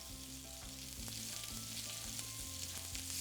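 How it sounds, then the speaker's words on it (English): Fish wrapped in pancetta sizzles and crackles on a grill, a steady quiet frying hiss with small pops, heard close and alone. "and then you just pop it on the grill"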